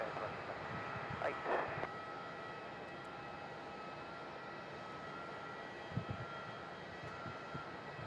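Four-engine airliner, a 35-year-old jet, taking off at Melbourne Airport, heard as a steady distant roar of engines that holds evenly throughout, with faint voices now and then.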